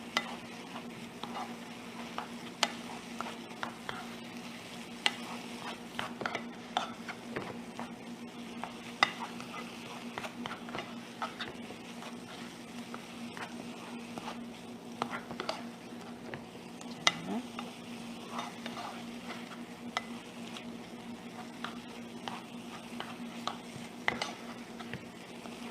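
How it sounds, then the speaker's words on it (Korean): Chopped tomatoes stir-fried in a pan until their moisture cooks down, a quiet sizzle under scattered clicks and scrapes of a utensil against the pan, with a low steady hum behind. "물기가 조금 줄어들까지 이렇게 볶아주세요"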